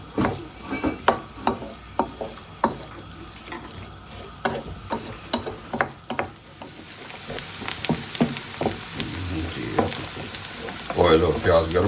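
Onions frying in hot cooking oil for a lentil dish, with repeated stirring clatters over a steady sizzle that swells louder toward the end.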